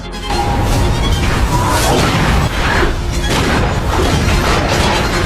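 A loud, sustained roaring blast with rumbling, whooshing turbulence from a nuclear bomb explosion destroying a city in a film, continuing without pause and with no talking.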